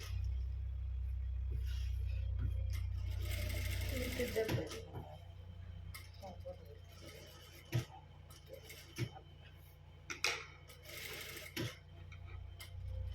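A sewing machine stitches a puff sleeve, its motor giving a steady, fairly loud whirring hum for about four seconds before stopping, followed by sparse, scattered clicks and taps.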